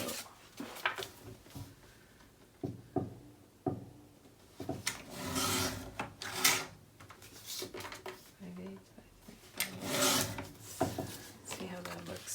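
Paper for a Stamperia Grand Hotel mini album is trimmed with a run of short scraping and rubbing strokes, soft and irregular, mixed with light handling noises and some talk.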